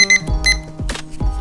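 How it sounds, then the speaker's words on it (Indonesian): A rice cooker timer beeps in a kitchen with a short series of bright electronic tones, close and clear, mixed with a few knocks and a brief rustle. "Udah bunyi, ini pakai timer Mang Ucup masak nasinya."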